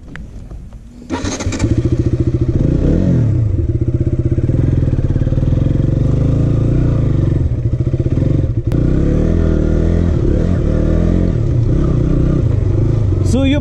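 A 2019 KTM Duke 200 ABS motorcycle starting with a brief clatter, then its single-cylinder engine running loud and close, a steady throbbing idle with slight revs throughout.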